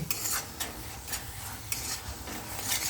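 A spoon stirring thick beetroot halwa mixed with cardamom powder and crushed dry fruits in a pan, with soft repeated scraping and rubbing strokes and a faint sizzle, close and quiet with no talk.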